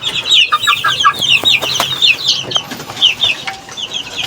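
Hens cluck in quick, chattering bursts close by, with a busy farmyard background and no talking.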